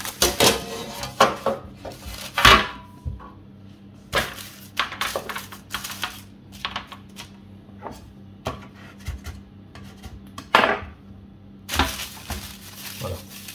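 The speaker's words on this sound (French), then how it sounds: "Allez, on va les mettre sur une plaque." Peanut biscuits are set onto a metal baking tray, producing a series of irregular clinks, taps and clatters of dough and utensils on the pan, close and fairly loud with short pauses between.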